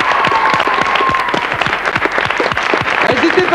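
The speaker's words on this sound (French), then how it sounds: "ça s'applaudit, même les autres" Studio audience on a 1990 French TV game show breaks into sustained, loud applause, dense clapping throughout with a brief voice rising over it near the start.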